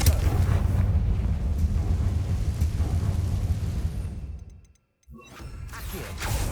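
A Confringo fire spell in Hogwarts Legacy goes off as a loud, rumbling blast with deep booming debris that fades over about four seconds to brief silence, then lighter game sounds resume.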